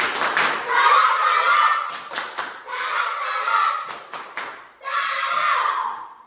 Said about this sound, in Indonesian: Tetap kasih tepuk salut untuk Brian, tepuk salut